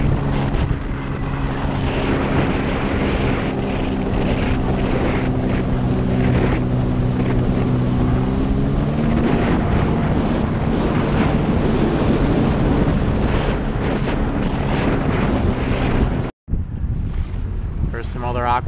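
An Aquatrax personal watercraft cruises and carves on open water, a loud continuous engine hum with rushing spray and heavy wind buffeting the microphone, briefly cutting out near the end.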